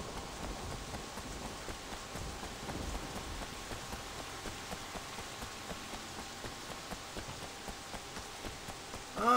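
Steady rain patters on a surface in a park in the video game Sleeping Dogs, soft and continuous, with faint regular ticking throughout and a louder thump at the very end.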